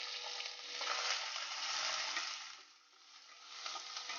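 Onion frying in hot oil in a pan with fenugreek seed, a close, steady sizzle that swells and dips as it is stirred, with no voices.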